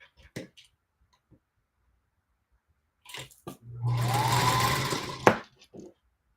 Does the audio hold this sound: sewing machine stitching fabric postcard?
yes